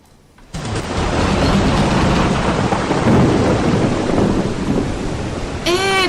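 Heavy rain sound effect in a radio sketch, a dense, loud, continuous downpour rushing in abruptly and roaring steadily for several seconds, with a thundery rumble beneath and a brief tonal sound at the end.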